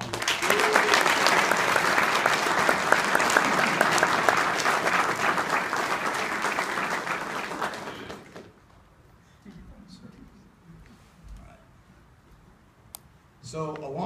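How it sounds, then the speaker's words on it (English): Loud, dense applause from an audience at an Eagle Scout ceremony in honor of Mr. Allen runs for about eight seconds, then cuts off sharply and leaves quiet room noise with a few small clicks. "Can you please give him a round of applause?"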